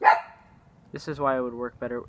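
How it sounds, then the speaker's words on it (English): A single short dog bark close by, followed by a person speaking. "excuse my dog by the way"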